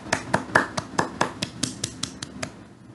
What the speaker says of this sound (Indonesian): itu adalah salah satu contoh dari bunyi tepuk tangan